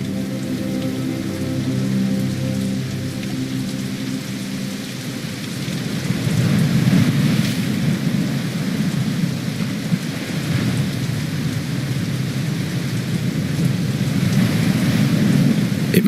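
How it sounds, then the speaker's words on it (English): Rain and thunder in the game Chains of Satinav, a steady rain wash with rolling low thunder swelling in after a few seconds and rumbling on, loud and continuous, with no speech. "It must rain here quite frequently,"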